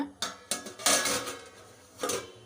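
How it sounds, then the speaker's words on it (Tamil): A lid clanking onto a cooking pot of simmering kuzhambu, with several light metallic knocks and scrapes nearby, ending in one final clink. "இப்போ மூடி வச்சிடலாம்"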